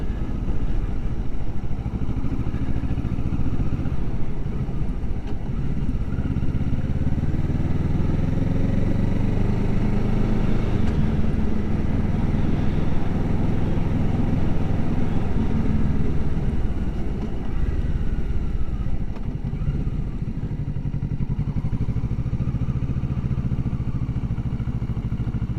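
A motorcycle engine runs steadily while riding, its rumble rising and falling as the rider shifts between gears and drops into neutral, close and continuous with no talk.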